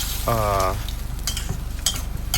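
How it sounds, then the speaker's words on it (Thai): Snakehead fish pieces sizzle and fry in a pan while being tossed with sugar, oyster sauce and seasoning; steady crackle with a short tonal clatter and scattered scraping stir strokes, fairly close. "ซอสฟ้าเขียว ผสมคลุกเข้าให้เข้ากันนะฮะ"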